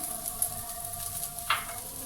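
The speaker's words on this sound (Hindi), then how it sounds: "प्याज भी डाल देंगे" Onions dropped into sizzling samosa filling in a pan, a steady close frying hiss with a couple of brief stirring scrapes, no voices.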